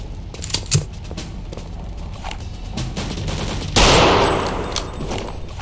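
Sniper rifle fire in Return to Castle Wolfenstein crackles in sharp, loud gunshot bursts over a busy game background, with one sudden heavy blast late that rings out and slowly fades.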